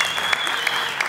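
Audience applauding at a TOLO TV 15th anniversary event, a dense, continuous wash of clapping from a crowd, with a sustained musical tone running underneath.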